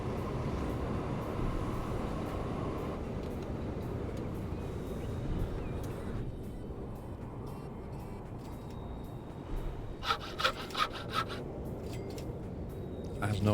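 A train runs in the railway-building video game Transport Fever 2, a steady rolling rumble with a rasping, grinding texture that continues through the whole stretch, with a few sharper clattering bursts near the end.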